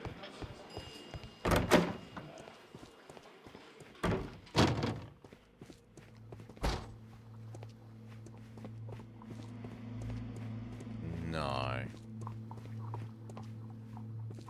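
A door opens in the detective video game Sherlock Holmes: Crimes and Punishments, with several sharp thumps and clunks followed by a low hum and a creaking sweep, quiet overall.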